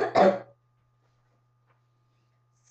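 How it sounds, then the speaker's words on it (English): A girl gives one short, close cough while she has a cold, followed by near silence and the start of another cough at the very end. "Sorry if I cough sometimes and forget to edit it out."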